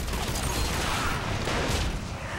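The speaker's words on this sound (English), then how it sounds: "Sorry I didn't look at the explosion." A Harvester enemy exploding in Mass Effect 3, a dense, crackling roar of debris and blast noise that fills the short stretch at steady loudness, with no talking over it.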